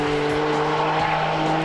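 Ferrari 575 M Maranello driving past with a steady, loud engine drone and a strong even tone, continuous throughout with no talking.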